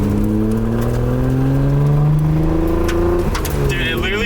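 Nissan Skyline GT-R engine on a race track, running rough and breaking up with a choppy, uneven drone that stays loud and steady throughout, a faint higher whine entering near the end.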